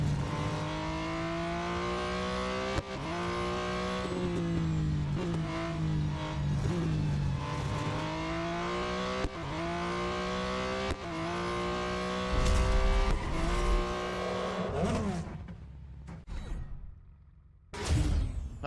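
A race car in the video game Real Racing 3 roars through repeated gear changes, its engine pitch climbing and dropping in a rhythmic pattern, loud and close, before easing off and fading near the end; no speech.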